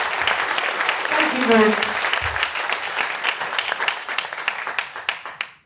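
An audience greets a speaker at an event with warm, sustained applause, dense clapping that gradually thins and fades out, while a voice speaks briefly over it.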